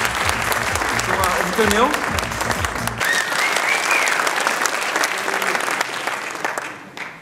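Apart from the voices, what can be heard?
audience applause for André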